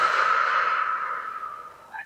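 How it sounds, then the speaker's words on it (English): A single slow, deep breath let out as a long, soft, airy exhale close to the microphone during a calming guided exercise, tapering off with a faint breathy catch at the end. "just take one deep breath in."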